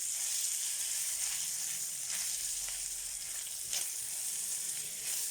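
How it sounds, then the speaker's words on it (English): Onions and potatoes frying in a pan for Lithuanian kugelis, a steady bright sizzle filling the whole stretch, close and even, with faint stirring scrapes and no talk. "we're going to be just quickly frying off our onions and our potatoes"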